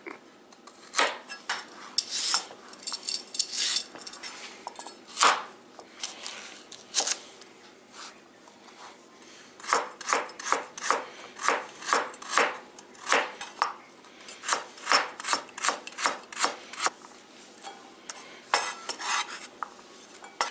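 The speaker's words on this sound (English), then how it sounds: "Peel and chop the carrot." A carrot is peeled and chopped: quick bursts of knife taps on a cutting board, with scraping and clinking between them, close and crisp, no voices.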